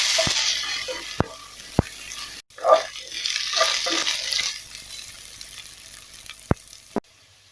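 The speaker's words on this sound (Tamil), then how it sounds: "இப்போ இஞ்சி பூண்டு பேஸ்ட்டையும் இதில் சேர்த்துடலாம். நல்லா வதக்கி விட்டுக்கலாம்" Onions with ginger garlic paste sautéing in a pan for Muttai Kuzhambu (egg curry), giving a steady frying sizzle with a few stirring scrapes and sharp clicks, moderately close, with no talking.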